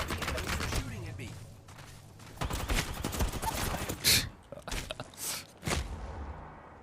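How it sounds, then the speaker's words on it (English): Enemies shooting guns in the Tomb Raider game: scattered bursts of gunfire and sharp cracks come in uneven clusters, moderately loud, mixed with in-game action noise, and a person talks over parts of it. "They're shooting at me."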